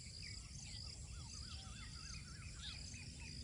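Birds calling in a quiet natural setting, with repeated short chirps and warbling whistles scattered throughout, faint and fairly distant, over a soft steady background of insect hum.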